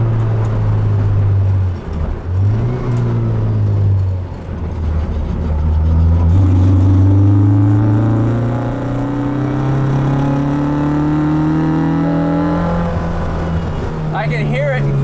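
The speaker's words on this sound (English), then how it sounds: "I can hear it and feel it when it gets into VTEC." A Honda-powered classic Mini revs from inside the car, its engine note rising and falling through gears with a harder, higher climb as it pulls, while people talk over the loud cabin drone.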